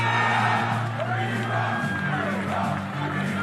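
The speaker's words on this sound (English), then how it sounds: "The crowd erupted" Crowd at the Libertarian National Convention erupting in sustained cheers, whoops and shouts, a loud continuous roar.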